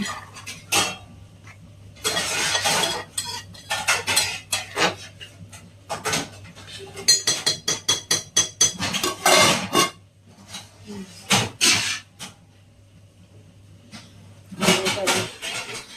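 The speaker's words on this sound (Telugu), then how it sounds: "మా బుట్కి నేను అంట్లు కడిగేలోపు అంట్లు సర్దేస్తుంది అన్నమాట" Dishes are washed and stacked at a kitchen sink, with repeated loud clinks and clatters of plates and steel utensils coming in irregular bursts and runs, plus a steady low hum underneath.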